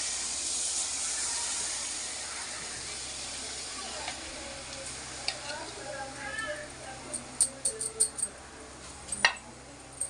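Batter sizzling on a hot pan over a freshly lit stove, a steady loud hiss at first that settles into crackles and light ticking pops, with someone talking over it.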